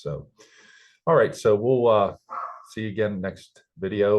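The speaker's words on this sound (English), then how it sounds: "sorry for my dog barking there in the background." A dog barks in the background, partly masked by someone talking steadily over it in an indoor room.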